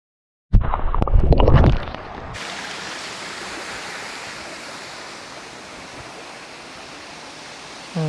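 Dhangar Waterfall near Kondeshwar sends a steady broadband roar of falling water in rainy weather, continuous after a brief louder burst at the start, with no voices.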